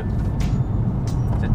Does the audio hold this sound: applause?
no